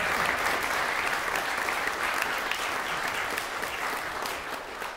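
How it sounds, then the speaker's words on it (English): Recital audience applauding at a graduation oboe recital, a steady dense wash of many hands clapping throughout, loud and close, tapering slightly near the end. "Everyone give them a round of applause."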